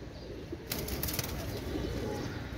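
Pakistani high-flying pigeons beat their wings in a sudden flurry of flapping that rises out of a low, steady background, with faint soft cooing beneath, close by and fairly quiet.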